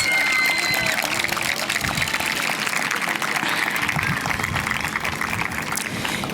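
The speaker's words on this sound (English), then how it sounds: "Give your supporters a round of applause." An audience at a 2022 Pomona graduation ceremony applauds the graduates' family and friends, with dense, sustained clapping that fills a large space and carries on steadily, a voice faintly audible underneath.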